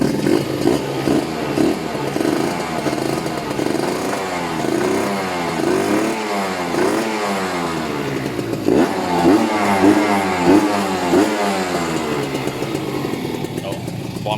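A Kawasaki ZX150 motorcycle engine is revved with the throttle again and again, its loud buzzing pitch sweeping up and falling back in quick bursts close by, with someone talking over it.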